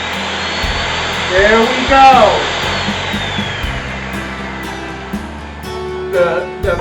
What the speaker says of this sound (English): these are the cookies that I am crushing up in my trusty faithful little Ninja